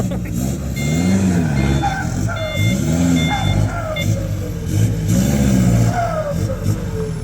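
A pickup dump truck without four-wheel drive strains through mud on a rainy work site, its engine loud and revving in rising surges. A voice talks over the noise.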